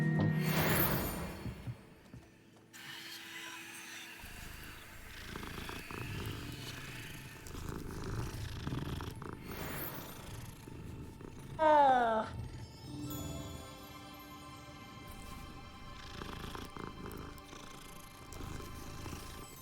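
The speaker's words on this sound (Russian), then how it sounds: "Есть ачивка погладить всех кис." Cats in the Hogwarts Legacy video game purr in soft, rolling stretches, broken by a brief rising meow and other in-game sounds, with no voices present.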